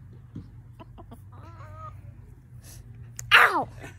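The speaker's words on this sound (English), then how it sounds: "They're all hens." Soft, close hen clucks and murmurs over quiet background, ending in a brief sharp squawk.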